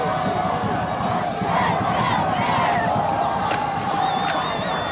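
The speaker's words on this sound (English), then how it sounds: "The crowd's up on their feet." A high school football crowd roars at a 1986 game between EBHS and the JP Stevens Hawks, a continuous loud wash of cheering and yelling from a distance with a whistle-like tone near the end.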